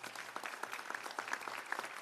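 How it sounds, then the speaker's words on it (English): A crowd at a Louisiana bar swearing-in ceremony for new law graduates claps steadily, a fairly quiet, even patter of many hands heard from a distance, with a few individual claps standing out and no talking over it. "Give them a round of applause, please."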